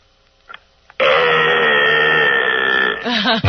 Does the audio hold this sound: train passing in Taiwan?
no